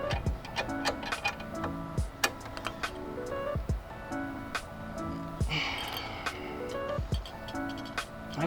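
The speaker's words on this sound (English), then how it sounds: "start tightening this by hand using a ratchet" A hand ratchet clicking in quick bursts while tightening a strut bar on a 2014 car, sharp close metallic ticks in repeated runs with short pauses between.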